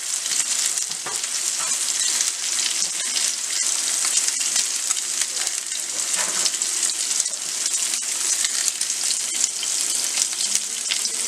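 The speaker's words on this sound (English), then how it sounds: "I'm just going to put that in an extremely hot skillet with olive oil in it." A steak sears in an extremely hot skillet with olive oil, giving a loud, steady sizzle and crackle that lasts throughout, close up, with no voices.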